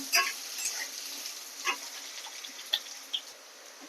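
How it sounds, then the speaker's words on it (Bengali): Cut potatoes fry in a pan, a soft sizzle under sparse stirring clicks and scrapes, close and fairly quiet, with a sharper knock at the end. "এবার এর মধ্যে কেটে রাখা আলুটা দিয়ে দেবো একটু ভালো করে ভেজে নেবো আলুটা"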